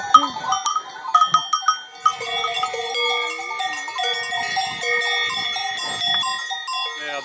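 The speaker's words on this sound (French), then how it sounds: "où broutent des vaches dont les cloches tintent en chœur" Many cowbells on cows grazing in wide pastures along the Jura long-distance trail, clanking and tinkling together in an overlapping chorus, loud and close, with faint voices in the background.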